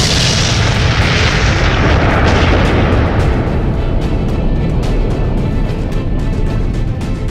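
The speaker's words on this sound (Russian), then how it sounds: "Испытание в СССР водородного заряда." A massive, sustained hydrogen bomb explosion roar from a Soviet test rolls on for several seconds, loud and booming with a long rumbling decay.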